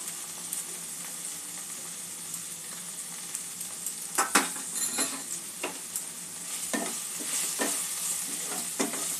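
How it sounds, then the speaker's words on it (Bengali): Spice masala fries in a pan with a quiet continuous sizzle, joined midway by sharper stirring scrapes and clatters that recur irregularly toward the end, without speech. "মশলাটা একটু ভেজে নেব কিছুক্ষণ।"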